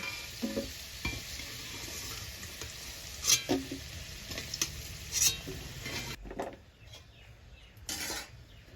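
Continuous sizzling of potatoes and carrots frying in a pan for Bengali shukto, with intermittent scraping and clinks of a spatula stirring, fairly close, with no talking.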